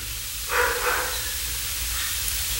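A dog barks once or twice in the distance, a faint brief burst over a low steady background hum, with no talking.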